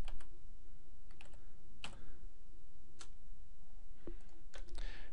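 Someone types on a computer keyboard, with sparse, irregular key clicks spaced across a few seconds over a quiet room hum, close and fairly soft, with no voices.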